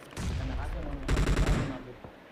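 Rapid gunfire from a shooting video game, a burst of close, loud shots with a dense run of rhythmic reports in the middle of the clip and no talk over it.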